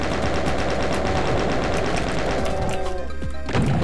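Chaingunner enemy firing in Doom, a rapid, continuous stream of gunfire that stays loud and dense throughout, with a few sharper crashes toward the end.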